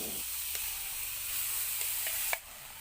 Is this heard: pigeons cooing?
no